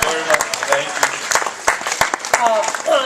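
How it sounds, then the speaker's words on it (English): Scattered audience applause following a comedic stage performance, with clapping heard in uneven bursts and a voice speaking over it. "As much applause as needed."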